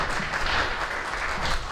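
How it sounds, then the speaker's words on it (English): A presentation audience gives a round of applause, a dense, even wash of many hands clapping at moderate loudness throughout, with no voices over it. "Let's everybody give Tom and Lori another round of applause."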